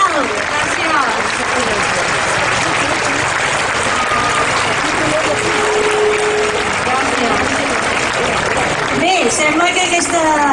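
Loud, sustained applause from a large outdoor crowd at a Sant Pere festival concert in Reus by an orchestra, dense clapping filling the whole stretch with a few voices and whistles mixed in.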